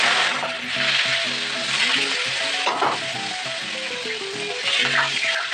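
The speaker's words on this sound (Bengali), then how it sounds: "তো ভালো করে শুটকি মাছটা ভেজে তুলে নেব।" Dried Bhola fish fries in hot mustard oil, a loud, close, continuous sizzle and crackle with occasional stirring and scraping in the pan, no voices.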